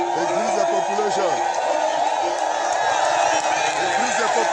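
A dense crowd at an outdoor gathering in Bamenda roars and cheers continuously, with whoops and shouting voices layered throughout, loud and close.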